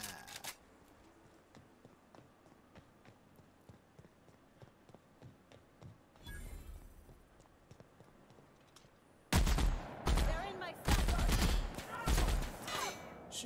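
Gunfire in the video game The Outer Worlds: quiet, sparse clicks and footsteps give way to loud, close bursts of rapid shots in the final seconds.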